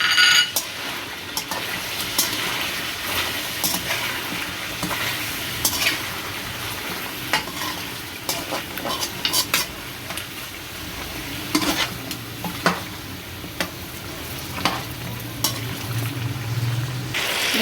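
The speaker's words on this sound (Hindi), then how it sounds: "अब इस स्टेज पे आके मैं जो हूँ ग्रीन चिली पेस्ट डाल दूँगी और इसको भी अच्छी तरह मिक्स कर लेंगे" Chicken karahi with green chili paste sizzling and frying in a pan while a spoon stirs it steadily, with scraping clinks and crackle throughout and no talking.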